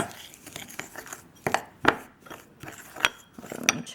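Baking soda and oil being stirred into a paste in a container, with irregular scraping and clinking of a utensil against the sides, close and moderately loud.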